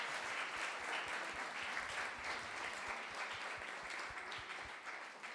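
Audience claps after a Sunday spiritual class, a faint but steady wash of many hands continuing evenly throughout without anyone speaking.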